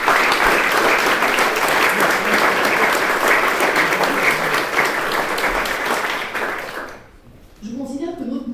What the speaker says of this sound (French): Je vous propose de les applaudir chaleureusement.